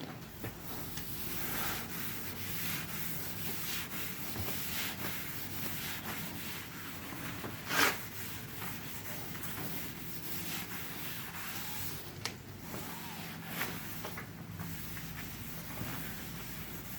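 Fine-grit sandpaper rubs steadily across a stained cast table saw top lubricated with WD-40, a continuous close scratchy hiss with a few brief louder scuffs, no talking.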